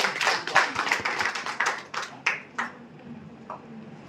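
Applause for a woman named Kamala at a Vedalex healthcare products team gathering, a burst of group clapping that fades out over a few seconds with scattered last claps.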